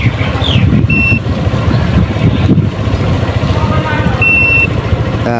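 An Easyride 150 TVX motorcycle's dashboard gives two short electronic beeps several seconds apart while its clock is being set, heard over steady loud background rumble and noise.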